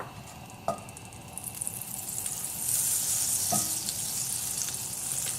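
Butter melts and sizzles with a teaspoon of olive oil in a warmed pan, a faint steady hiss with a few soft clinks of a utensil, the crackle swelling slightly partway through.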